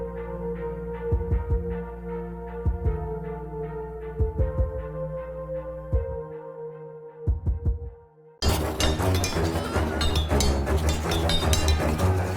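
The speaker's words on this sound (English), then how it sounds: "It comes to a slow end before hearing that heartbeat drum end the track." Slow low heartbeat-like drum thuds in doubled pairs close out a music track over a sustained tonal drone, several beats spaced a few seconds apart, before a loud, dense full-band passage abruptly takes over.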